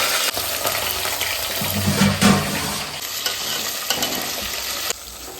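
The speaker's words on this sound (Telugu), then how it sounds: "ఇప్పుడు ఏంటంటే దీంట్లో కాలీఫ్లవర్ వేయాలి ఎందుకంటే తొందరగా ఉడకదు కదా నేను మంచిగా నూనెలో ఫ్రై చేయాలి అన్నమాట" Cauliflower sizzles and fries in hot oil for a Hyderabadi-style mixed vegetable dum biryani, a steady crackling hiss that rises briefly as it is stirred, close and loud with no talking.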